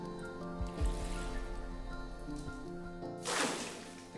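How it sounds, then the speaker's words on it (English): Water is poured from a cup down a deep well over 100 feet deep, making faint distant drips and a soft splash far below, followed by a brief burst of louder spattering near the end. "I want you to dip a cup of this water and pour it down the well."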